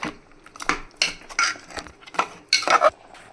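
A spoon scrapes and clanks against a pan in several short bursts as thick mutton masala paste with coconut and chili is stirred and mixed, close up.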